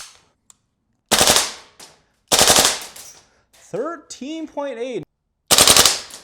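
Gas-powered airsoft AK rifle firing full auto in several short, loud, rapid bursts separated by silence, with a brief spoken moment between bursts.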